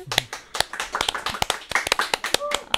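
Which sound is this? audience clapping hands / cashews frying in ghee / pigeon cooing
audience clapping hands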